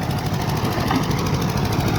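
A Massey Harris 701 baler works behind a Fordson E27N tractor baling straw, making a loud, steady mechanical rumble and clatter that carries on without a break and with no voices.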